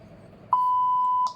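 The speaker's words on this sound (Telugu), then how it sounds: "ఇప్పుడు బీప్ వచ్చిన తర్వాత తమ్ము పెట్టాలండి" A single steady electronic beep from a fingerprint scanner starts abruptly and holds for under a second, clean and close, over a quiet background.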